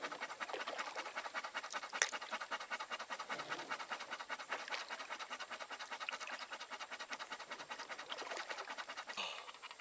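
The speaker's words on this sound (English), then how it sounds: "You guys can probably hear the dog pant like crazy." A dog pants heavily and rapidly on a warm day, a steady close rhythm of quick breaths with occasional scratching and rustling in the background.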